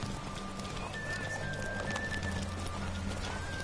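Horse in The Witcher 3 video game, with hoofbeat-like clip-clop and faint whinnying over a steady game ambience of birds and outdoor background.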